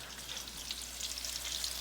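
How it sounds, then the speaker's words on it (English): Food sizzles steadily in a hot pan as a second batch fries, a continuous bright crackle with fine popping that stays even and close throughout, with no voices. "Got the second batch frying now."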